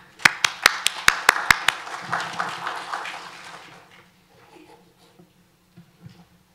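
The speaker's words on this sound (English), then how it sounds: "I'm not used to applause." A small audience at a City of Port St. Lucie business tax workshop claps to welcome a speaker: several sharp, close claps in a quick run, then softer scattered clapping that dies out into near quiet.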